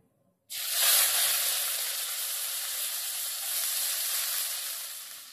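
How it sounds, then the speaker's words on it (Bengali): Chopped onions hit hot mustard oil with cumin and burst into a loud, bright sizzle after a short silence, then keep hissing steadily and close by until the end. "গোটা জিরেটা 10 সেকেন্ড ভাজা হয়ে গেলে এর মধ্যে দিয়ে দেব কেটে রাখা পেঁয়াজের টুকরোগুলো।"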